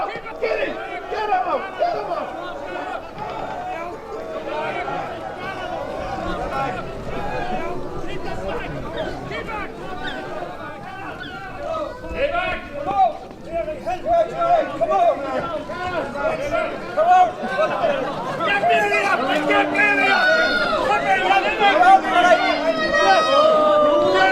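Agitated crowd shouting and yelling in a dramatized confrontation, a dense, loud babble of many voices that swells louder and more frantic toward the end.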